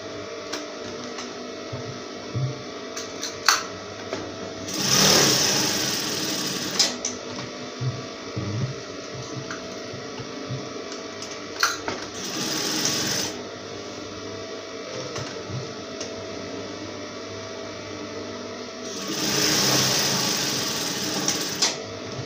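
A sewing machine stitches interface and main fabric for a simple ladies' gown, running in several bursts of steady mechanical whirring separated by quieter pauses, close and clear with no talk.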